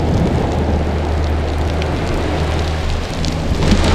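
Steady rushing and splashing of water falling onto rocks, a dense continuous patter like a small waterfall close by, at Phra Nang Cave Beach, Thailand.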